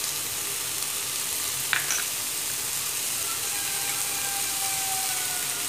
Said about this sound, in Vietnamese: Mình sẽ xào cho cái gia vị nó thấm đều trong ớt.